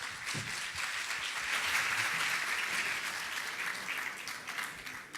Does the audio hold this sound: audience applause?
yes